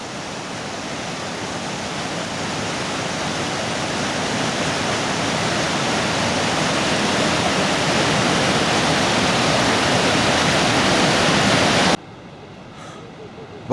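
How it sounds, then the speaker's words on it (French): Loud, steady roar of river rapids and cascading waterfalls rushing close by, continuous broadband water noise for about twelve seconds before cutting off abruptly to quiet. "les rapides commencent pas mal avant, là, parce que même ici, ça passe, puis il y a des bonnes cascades déjà"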